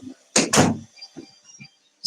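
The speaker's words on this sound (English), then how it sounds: "I gotta close my door." A room door shutting indoors: two close, loud thuds in quick succession, followed by a few faint knocks and rustles, with no talk.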